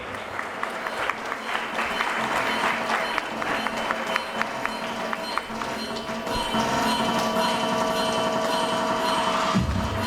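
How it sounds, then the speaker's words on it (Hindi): Audience at an IT Olympiad award ceremony applauds the winners with sustained, dense clapping that holds steady throughout, rising slightly toward the end, with little talk over it. "जोरदार तालियां होनी चाहिए सारे विनर्स के लिए।"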